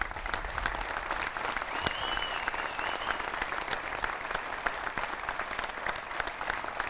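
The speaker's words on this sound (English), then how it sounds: "We'll give you a round of applause." Audience applause at a Kansas Sports Hall of Fame induction ceremony honoring a family member, even and sustained throughout at moderate distance, with a faint whistle partway through.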